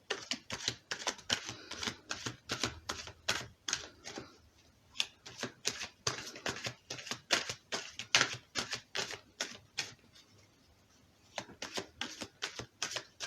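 Tarot cards being shuffled close up, a rapid run of crisp riffling bursts with short pauses between, fairly quiet and alone with no talking.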